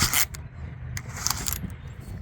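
Nylon webbing of a retractable ratchet strap whipping back into its housing with no tension, a quick close zipping rush followed by a few light rattling clicks of the metal hook and ratchet.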